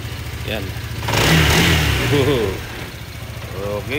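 Stock Honda 160cc scooter fitted with a new racing injector revs up in a loud burst that swells, holds and eases off, with people talking close by before and after.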